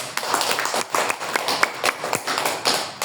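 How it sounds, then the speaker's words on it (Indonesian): A group of people at an ice-breaking training session claps their hands, a dense burst of overlapping claps lasting a few seconds with no talk over it. "Tepuk tangan buat kita semua."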